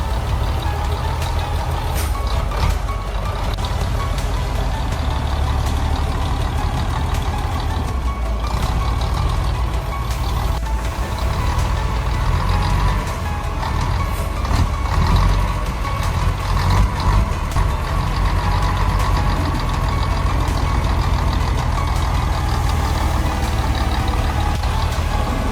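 A loaded logging truck on a tight mountain road turn idles and revs while edging through careful corrections, with a steady low engine rumble and occasional hissing and clanking.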